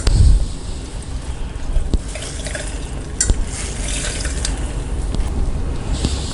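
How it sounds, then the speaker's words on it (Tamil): Water trickles and drips steadily as chenna wrapped in cloth is squeezed while making cham cham sweets, a close, continuous wet splatter with scattered sharper drips. "இப்போ நம்ம அப்படியே துணியோடு எடுத்துகிட்டு நல்லா புழிஞ்சிக்கலாம்"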